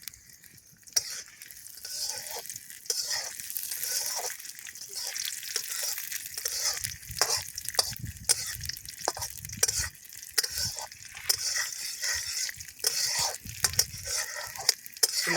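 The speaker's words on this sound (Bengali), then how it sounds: "এবার তেল গরম হয়ে গেছে কাজু কিশমিশ দিয়ে দিলাম" Cashews and raisins sizzle and crackle in hot oil in a home kitchen pan, a close steady frying hiss broken by repeated stirring scrapes and clinks of a utensil.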